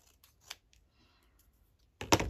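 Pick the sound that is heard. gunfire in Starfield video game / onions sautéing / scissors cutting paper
scissors cutting paper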